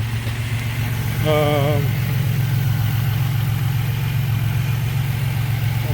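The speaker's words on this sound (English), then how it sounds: "this is a cold crank up right here." A turbocharged Buick Grand National, fitted with 60-pound injectors and an upgraded fuel pump, idles steadily after a cold start with a loud, continuous low rumble. Someone speaks briefly over it.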